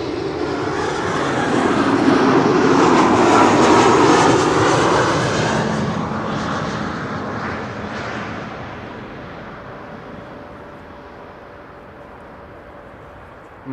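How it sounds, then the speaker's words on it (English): A KLM Embraer 190 jet arriving at Amsterdam Schiphol from Teesside swells into a loud engine roar and whine near the start, then fades gradually into the distance, leaving a faint lingering tone. "Embraer 190 arriving from Teesside or Darlington is coming in next."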